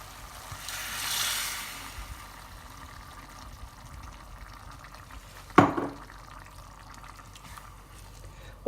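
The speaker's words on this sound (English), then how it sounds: "what I'm going to add now is our tomato sauce" Crushed tomatoes from a can and a bottle of passata pour into a pot of Bolognese sauce, a soft liquid rush near the start and a sharper splash and glug about midway, over a low kitchen hum.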